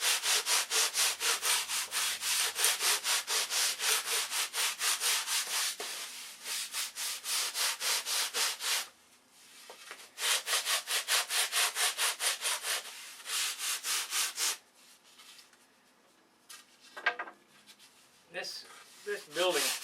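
A 30-inch T-bar sander rasping back and forth to round the leading edge of a model aircraft flap, with rapid, loud, even strokes and a few pauses and softer scraping near the end.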